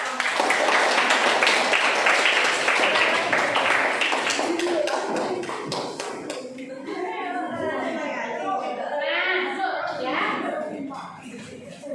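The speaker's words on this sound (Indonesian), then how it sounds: "Kita berikan tepuk tangan yang panjang saja untuk" Students in a classroom give a long round of applause, dense clapping for the first half that thins and fades, giving way to chatter, chuckles and shuffling as several voices talk over the tail.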